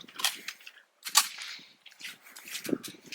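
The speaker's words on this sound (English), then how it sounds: "we're just going to go ahead and empty the pistol" A Sig Sauer P220 Legion 10mm pistol fires at an outdoor range, several sharp, fairly distant cracks spread unevenly over about three seconds.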